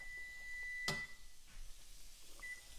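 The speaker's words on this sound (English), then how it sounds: "That buzzer is from my toast." A toaster buzzer sounds a single clear beep, then a fainter short beep follows about a second and a half later, both quiet against a kitchen background.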